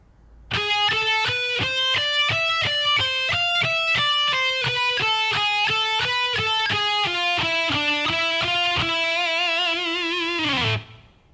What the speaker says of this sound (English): So at a slow tempo, that lick should sound like this.